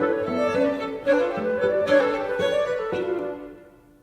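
Ensemble playing the first movement, Moving Parts, of a Mason Bates piece: busy, sustained tonal lines from several voices with repeating rhythmic patterns and regular accented attacks, steady and fairly loud before tapering off at the end.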